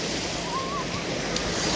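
Mediterranean Sea waves washing steadily at a hotel beach in Turkey, a continuous broadband surf wash with wind noise on the microphone and a faint whistle-like tone partway through.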